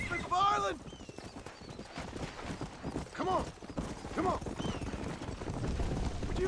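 Galloping horse hooves in the Western video game Red Dead Redemption pound in a quick rhythmic clip-clop. A horse neighs early on, and voices talk over the hoofbeats.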